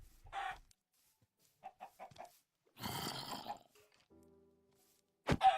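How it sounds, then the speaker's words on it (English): Minecraft chickens cluck in short scattered bursts, with a few quick clucks in a row and a louder squawk near the end, separated by near-silence. "time to just massacre these chickens"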